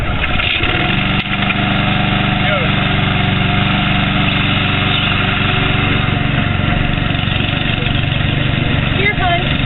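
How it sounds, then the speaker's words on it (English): A radio-controlled lawn mower's small engine runs loud and steady, close by. Its rough drone holds throughout, and a voice sounds briefly over it. "I'm going to ask my lovely wife to start the mower for me"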